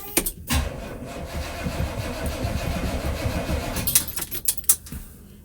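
A classic muscle car engine cranks after months sitting unused, with a few jangling key clicks, then rapid uneven starter churning and a rough rumble settling toward idle, close by.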